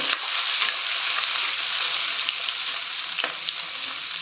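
Ginger and garlic fry in hot oil in a pan for a homemade clam dish, a steady close sizzle with a few faint stirring clicks and no talking.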